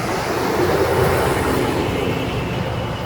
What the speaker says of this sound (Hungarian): Jön a vonat.